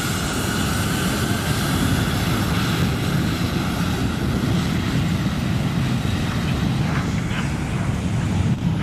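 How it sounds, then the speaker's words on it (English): An airplane takes off from a runway with a loud, continuous engine roar that stays close throughout, with some wind buffeting on the microphone. "This plane tore up the runway as it was taking off."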